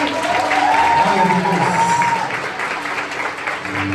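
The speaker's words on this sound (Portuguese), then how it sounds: "E vamos aplaudir a Deus pela vida desses juniores," A church congregation at a Baptist baptism service bursts into applause, a dense clatter of clapping with a voice speaking over it and a sustained tone ringing above, fading slightly toward the end.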